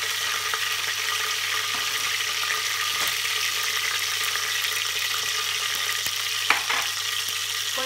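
Green chillies sizzle and crackle in hot oil in a pan in a home kitchen, a steady loud frying hiss with occasional sharper pops and a stir near the end, and no talking.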